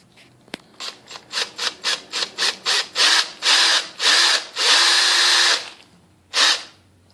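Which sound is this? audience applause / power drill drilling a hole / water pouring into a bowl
power drill drilling a hole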